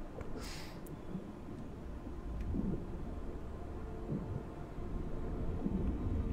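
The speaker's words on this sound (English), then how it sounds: "Do you guys hear the thunder? Or is that in my real world?" Thunder in the horror game The Curse of Grimsey Island rumbles as a low, rolling, continuous drone, moderately loud, with a faint brief high clatter near the start.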